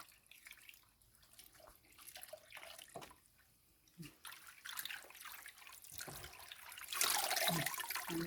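Running tap water splashing over fresh basil leaves in a sink, gentle and intermittent at first with small drips and trickles, then growing to a steady, louder rush near the end.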